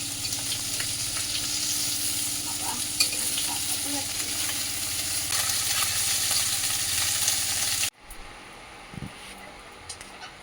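Fish fries in a pan with a dense, loud sizzle and crackle, then the sound drops suddenly to a quieter hiss near the end.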